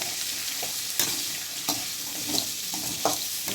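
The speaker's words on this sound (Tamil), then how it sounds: "வெங்காயத்தை நல்லா வதக்கி விட்டுறலாம்." Chopped onions sauté in a hot pan for a Tamil-style spicy onion chutney, a continuous close sizzle with spatula scrapes and stirring strokes every second or so.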